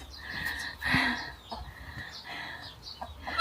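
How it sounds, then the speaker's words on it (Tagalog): Farm chickens clucking, a steady run of close, repeated clucks and short calls with one louder outburst, no talking. "Ang mga kokodek."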